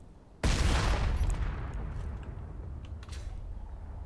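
A Pro-1 rocket launcher fires in Space Engineers, a single loud sudden blast that rolls into a long rumbling roar and slowly fades, with faint mechanical clicks and creaks trailing after.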